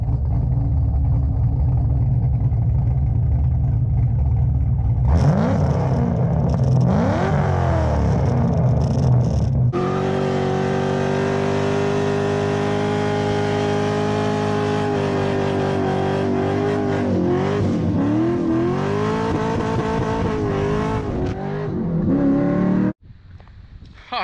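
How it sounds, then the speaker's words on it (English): A 1999 C5 Corvette V8 idling and then revved repeatedly, loud rising and falling engine roars up close with a sustained high rev before cutting off abruptly near the end. "This is my 99 C5 Corvette."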